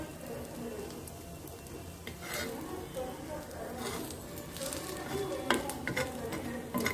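Idli pieces fry with podi masala on a tawa, producing a faint, steady crackling sizzle with intermittent scraping and flipping sounds.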